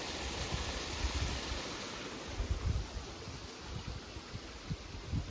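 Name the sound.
small waterfall of mountain water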